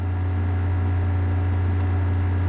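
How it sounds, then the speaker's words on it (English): A loud ice maker on a brand-new refrigerator gives off a steady, droning electrical hum with a tonal buzz layered over it. The hum is close and continuous and never changes, with no voices over it. "That's a loud ice maker on that brand new fridge."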